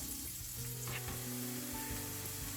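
Chopped onion frying in a pan for a breakfast shakshuka with sausages, a steady soft sizzle with faint utensil clicks, fairly quiet and continuous with no talking.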